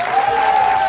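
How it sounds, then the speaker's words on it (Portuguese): Studio audience applause at a late-night Portuguese comedy show, a steady wash of clapping filling the whole moment at moderate loudness with no voices over it. "uma grande salva de palmas para o nosso Jeremias"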